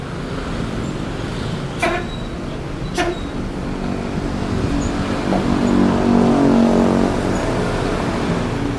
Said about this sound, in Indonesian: Serame ini pagi hari di Terminal Pondok Pinang.